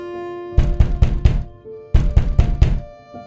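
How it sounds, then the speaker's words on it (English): Sharp, urgent knocking on a wooden door, two close, loud bursts of four rapid thuds each, separated by a short pause. "a sharp, urgent knock shattered the stillness."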